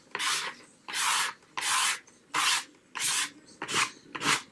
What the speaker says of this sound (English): Now, scraping paint is awesome.